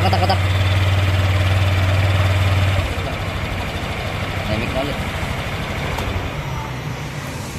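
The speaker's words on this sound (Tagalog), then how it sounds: "nakita nyo naman, tahimik na yung motor" A Honda Click 125 scooter engine idles quietly after a ticking noise was fixed, giving a steady, even close-up hum with someone talking over it.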